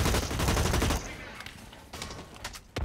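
Gunfire in the shooter game BlackLight Retribution: a dense burst of rapid automatic shots opens loudly, then falls to quieter scattered reports, with a sharp shot returning at the end.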